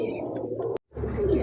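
Club racing pigeons with leg tags, offered for sale, coo in low repeated murmurs close by, broken by a brief silent gap before the soft calls resume.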